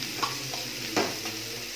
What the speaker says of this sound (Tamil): சௌசௌ நல்லா வதங்கட்டும்.